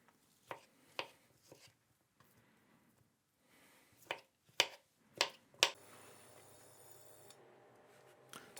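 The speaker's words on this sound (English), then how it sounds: "And chop it into pieces." A knife chops a soft boiled potato into pieces on a board: a handful of sharp, separate knocks spaced irregularly, close and otherwise quiet, followed by a faint hiss.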